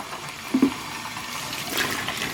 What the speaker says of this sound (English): Rinse them. Make sure you get all this soapy stuff out.